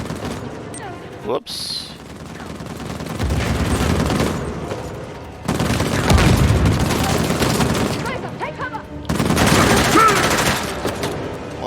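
A grenade blast amid gunfire in Uncharted: The Lost Legacy, heavy bursts of gunshots and booms arriving in three loud waves separated by brief lulls, with a voice speaking briefly near the start.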